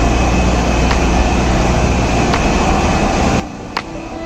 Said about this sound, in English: engine room sounds like this